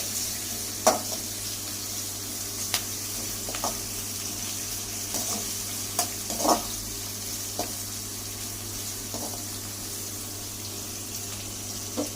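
Onions sautéing in a pan while making yellow karisalankanni greens, a soft steady sizzle broken by scattered clinks and scrapes of stirring, fairly quiet with a low hum beneath, no talking.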